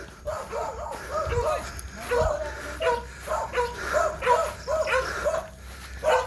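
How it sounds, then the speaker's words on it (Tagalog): Several dogs barking and yipping around an old house in a rural hillside area, a steady run of repeated barks at moderate distance with people talking in between. "Patay, daming aso."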